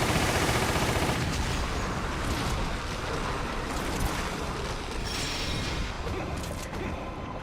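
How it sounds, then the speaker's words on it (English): Dense, continuous gunfire from the Resident Evil shooter, loud and sustained for several seconds with rapid overlapping shots and a steady roar of game noise beneath, no voice present. "I was gonna start shooting him."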